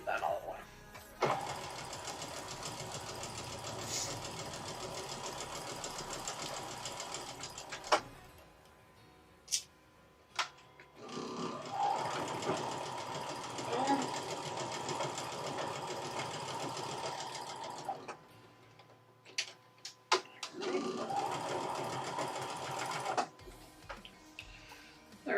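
A sewing machine stitching quilt pieces runs in three long steady bursts of fast mechanical whirring, separated by short pauses with clicks and handling, with a voice speaking in the background.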